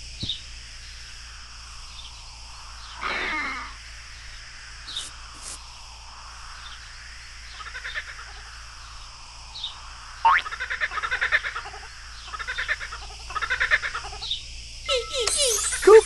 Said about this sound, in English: Kookaburra!